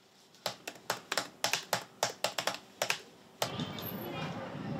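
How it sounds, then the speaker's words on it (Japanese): Keys clatter in quick, uneven bursts as a child types on a school-issued Chromebook at home, a dozen or so close, crisp taps, then the typing stops and a louder room-noise wash takes over. "今夢中になっているのはタイピングオンラインで検定の練習にもチャレンジしています"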